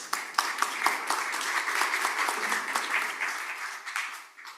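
Applause at an international conference after a presentation, a moderate crowd clapping steadily with clear individual claps, fairly close, fading slightly at the end.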